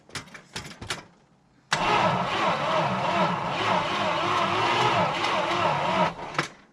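An abandoned big block Dodge Charger engine turns over and catches, breaking into a loud, steady, lumpy idle that runs about four seconds before cutting out, with a few brief cranking bursts before it and after.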